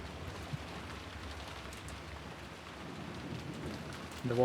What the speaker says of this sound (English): As I thought, the storm has turned the outside air sweet.